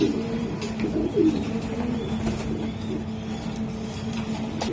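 Racer pigeons coo softly and repeatedly in low, throaty murmurs close by, over a steady background hum.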